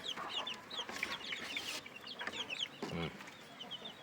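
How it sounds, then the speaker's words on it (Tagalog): Heritage chickens cluck and chatter close by in a busy farmyard, with overlapping soft calls and a few sharper squawks. "Mga heritage chicken yan."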